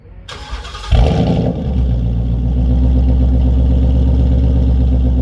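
A 2019 Ford Mustang GT engine cranks and fires up, then settles into a loud, deep, rumbling idle from the active exhaust in normal mode, steady and close with no talking.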